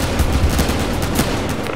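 Pistol and shotgun fire in Battlefield Hardline, a dense run of loud overlapping shots and booms filling the whole moment with no pause.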